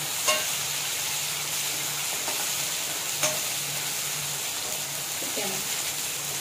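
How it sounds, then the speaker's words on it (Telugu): Chicken liver and gizzard being stirred with turmeric and ginger-garlic paste in a pan, with a steady sizzle and occasional spatula clinks against the metal. "కలుపుకుందాం ఫ్రెండ్స్, పచ్చివాసన పోయేలా."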